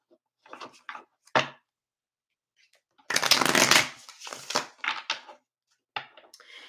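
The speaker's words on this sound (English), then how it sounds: "I just remembered that I needed to shuffle one deck" Riffle shuffles of a deck of cards: short papery bursts, then a longer loud riffle and bridge, close up with quiet gaps between.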